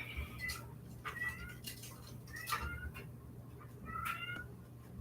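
A cat in a room under renovation gives several soft, short meows spread across the stretch, fairly faint against a low steady background hum, with no talking.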